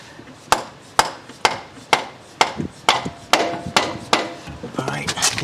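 A dead blow hammer repeatedly strikes a splined axle into the front wheel hub of a 2010 Nissan Altima, about a dozen sharp, evenly spaced whacks close up that speed up slightly toward the end.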